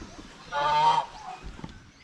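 A turkey on a farm gives one loud, honking call lasting about half a second, close by, followed by faint quieter sounds.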